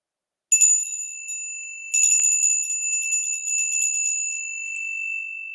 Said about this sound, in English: I got my own little bell here.